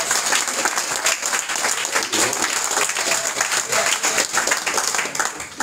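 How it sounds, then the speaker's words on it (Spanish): An audience at a liberation conference in the Dominican Republic applauds loudly and steadily, with dense clapping and crowd noise running through the whole stretch. "Denle un aplauso a su esposa."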